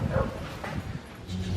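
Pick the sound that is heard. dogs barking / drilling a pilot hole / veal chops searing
dogs barking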